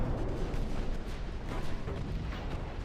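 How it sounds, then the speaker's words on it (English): Torpedoes slam into a warship in a naval strategy game, a dense rolling barrage of heavy booms and rumbling blasts that runs steadily for a few seconds without talk. "We just just took a nasty hit from something, and we're eating torpedoes."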